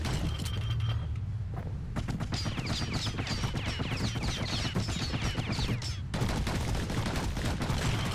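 Rapid gunfire from guns in the action game Bastion, a dense string of sharp, closely spaced shots with mechanical clatter that runs steadily for several seconds, broken by brief gaps, loud and up front, with no talk.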